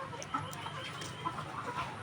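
Layer hens clucking softly in a poultry shed, a steady murmur of overlapping low calls with a few slightly louder clucks rising from the flock.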